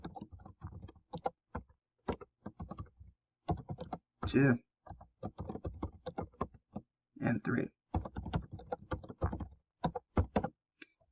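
Computer keyboard keys clatter in quick, uneven bursts as assignment names are typed into an Excel spreadsheet, with a person talking in between the runs of clicks.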